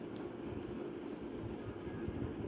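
Steady low rumble of a moving passenger train heard from inside a carriage, a continuous rolling drone with faint rattles on top and no voices.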